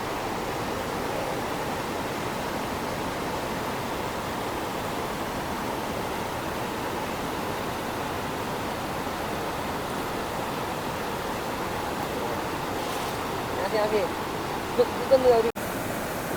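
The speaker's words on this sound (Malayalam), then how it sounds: "ഒരു കുത്തി ഒഴുകുന്ന വെള്ളത്തിലേക്ക് ഇപ്പോൾ" Fast-flowing river water on a kayaking run near Kozhikode, a steady broadband rushing roar that holds evenly throughout, with a few faint knocks and splashes near the end.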